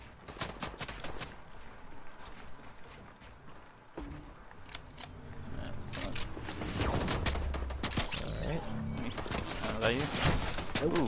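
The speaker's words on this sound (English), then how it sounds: "Why am I getting shot from all angles?" Video game gunfire aimed at the player, a loud series of sharp cracks and rapid bursts that gets denser and more chaotic toward the end, with people talking over it.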